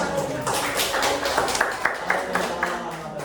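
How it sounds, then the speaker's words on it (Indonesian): A classroom group applauds after a team leader's presentation, a patter of claps with a few sharper taps standing out over a murmur of voices. "Tepuk tangan."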